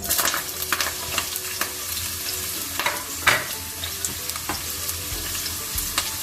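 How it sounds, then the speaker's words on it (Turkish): Chopped onion frying in olive oil in a pan, a steady close sizzle broken by repeated scraping and clacking from stirring, with no talking. "İçine soğanımı katacağım."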